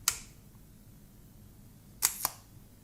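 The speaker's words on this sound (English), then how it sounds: "You can see there within 1/4 of a second, the shutter opened and closed again." A camera shutter fires twice: one sharp click at the start, then after a pause a quick double snap as it opens and closes, close-up and crisp against a quiet background.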